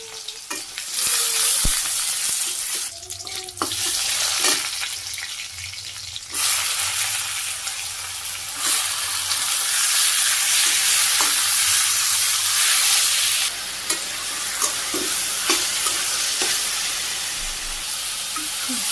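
Cumin, chopped onion and green chilli fry in hot oil with a loud, steady sizzle and hiss, broken by a brief pause and scraping stirs in a rooftop village kitchen.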